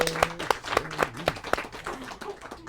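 A small meet-and-greet audience gives Sammy a round of applause: a handful of sharp, distinct claps in a loose rhythm, fairly close, with a voice murmuring underneath before the clapping thins out.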